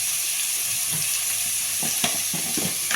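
Ginger and turmeric powder sautéing in a pan give a close, steady sizzle and hiss, with a few soft scrapes and stirring taps toward the end.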